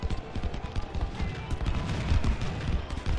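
Dense musket volleys and cannon fire from a Union river crossing battle in Ultimate General: Civil War roll on continuously as a crackling, booming distant roar throughout.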